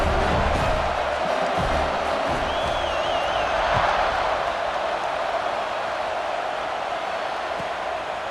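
A stadium crowd in EA Sports College Football 26 roars and cheers before a kickoff, a dense, loud wall of noise with a shrill whistle rising briefly above it.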